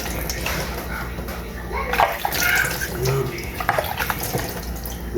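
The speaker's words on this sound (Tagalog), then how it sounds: "hugasan natin yung carrots nila guys" Tap water runs and splashes over carrots being washed by hand in a sink, a steady close rush with small sloshes and drips while a person talks over it.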